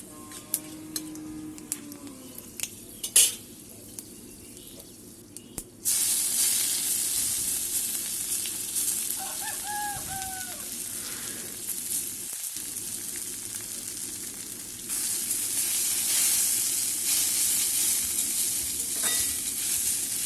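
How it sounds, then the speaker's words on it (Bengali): Grated mango frying in hot oil with panch phoron: sparse clinks and scrapes give way to a loud, steady sizzle with stirring, growing brighter toward the end. "পাঁচফোড়নটা দেওয়ার পর ঝুরি করা আমটা তেলের ওপর দিয়ে ভালো করে নাড়াচাড়া"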